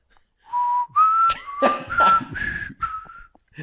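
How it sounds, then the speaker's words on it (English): A person whistles a short run of wavering, sliding notes, clear and close, with no talking. "He whistles. Not the music. He whistles."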